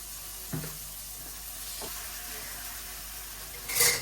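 Green chilies fry in hot oil in a home kitchen with a soft, steady sizzle, a couple of faint knocks, and a brief louder burst of hiss and clatter near the end.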